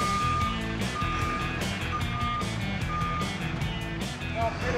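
A forklift reversing beeps at a steady regular pulse, mid-distance, over engine rumble at an outdoor mountaintop winery work site.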